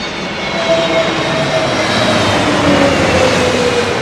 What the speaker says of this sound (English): This is the A320neo. The 321 actually.